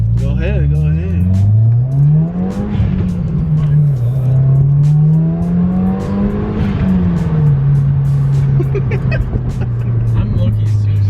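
A Subaru BRZ pulls hard under acceleration, its exhaust rumbling loud and close as the revs climb, dip with shifts and rise again; people talk over the engine inside the car.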